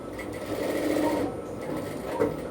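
A sewing machine runs steadily at a slow, even pace while stitching the seam of a bell sleeve, its soft rhythmic whir continuous and fairly quiet throughout.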